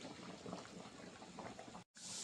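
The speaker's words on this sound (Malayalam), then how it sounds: "നമ്മുടെ മീൻ കറി നല്ല തിളച്ചിട്ടുണ്ട്." Stingray fish curry with roasted ground coconut boils steadily in a pot, a continuous faint bubbling and popping simmer heard close up without talk.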